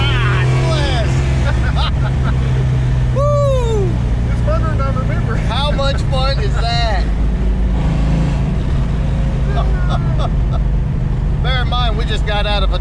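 Turbocharged Ford Fox-body Mustang engine under load, a loud continuous low drone with rising and falling turbo whistles and chirps, joined by voices talking throughout.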